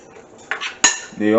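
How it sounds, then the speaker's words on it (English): A spoon stirs pork in a garlic marinade, with a few sharp metallic clinks and scrapes against the bowl in quick succession, close and fairly loud. "So I'll just give this a stir"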